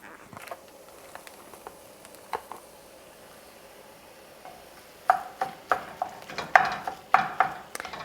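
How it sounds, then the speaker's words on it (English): A spoon stirs tomato paste, garlic, onions and a pound of lean ground turkey in a pot for turkey chili, quiet squishy scrapes that turn into a run of sharper, louder rhythmic clacks near the end. "Let's give this a good stir"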